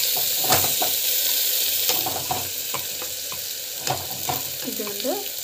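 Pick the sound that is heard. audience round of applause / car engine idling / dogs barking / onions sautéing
onions sautéing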